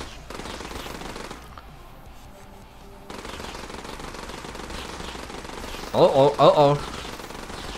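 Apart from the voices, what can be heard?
machine gun firing in the video game Dropship Down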